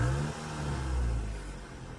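A Mazda engine revving close by, with a rough, buzzing drone from a hole in the exhaust. The rev rises and falls steadily with a deep rumble throughout and no talk.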